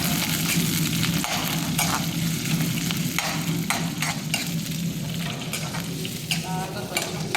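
Unpeeled garlic cloves sizzle in hot tempering oil for a ridge gourd chutney, a steady close crackling fry with occasional stirring scrapes throughout.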